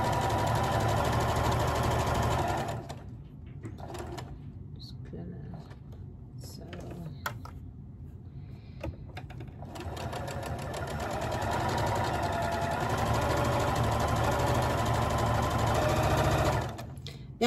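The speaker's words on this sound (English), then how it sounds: "drop my presser foot, drop my needle, and I'm going to start sewing" A sewing machine stitching a drawstring bag lining with an all-purpose presser foot, running in loud steady bursts at the start and end with a quieter pause of scattered clicks between.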